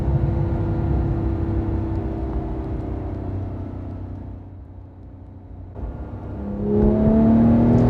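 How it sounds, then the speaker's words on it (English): A Porsche 911 GT3 engine hums and rumbles steadily, eases off briefly, then swells into a rising, loud rev as the car accelerates, with no talk over it. "You can't complain about the sound of this car."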